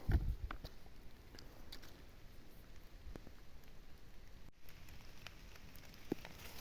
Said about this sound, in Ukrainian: маленький дощик продовжує крахати